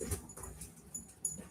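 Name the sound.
restless dog whimpering in the car boot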